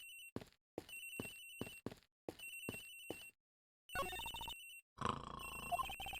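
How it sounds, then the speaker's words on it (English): A cell phone rings in the Ace Attorney Investigations video game, a bright electronic ringtone repeating in short regular pulses, then shifting to a fuller melodic tune, clear and without talk. "Of course I do! Agent Hicks' phone! It's ringing from somewhere, sir!"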